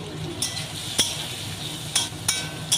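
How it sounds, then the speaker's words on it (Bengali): Diced potatoes fry in hot mustard oil in a wok with a low, steady sizzle, while a few sharp metallic clinks of a spatula against the pan break through. "তেল গরম হয়ে গেছে, ডুমো করে কেটে রাখা আলু ভেজে নিচ্ছি"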